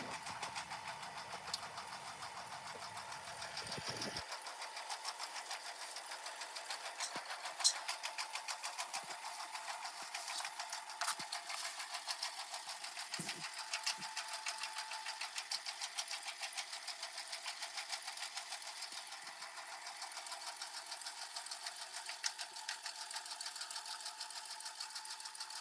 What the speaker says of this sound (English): So I'm going to go ahead and get that stitched out so we can see where to place our first piece of fabric